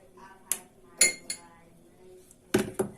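A spoon stirs thickened pudding with a spoonful of butter in a pot, giving a few separate metallic clinks and knocks against the pot's sides. The sounds are close and spaced apart, with quiet gaps between them and no talking.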